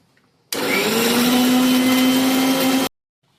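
A mixer grinder whirs loudly and steadily for about two seconds, grinding coriander into a masala paste, starting and stopping abruptly, with a rising whine as it grinds.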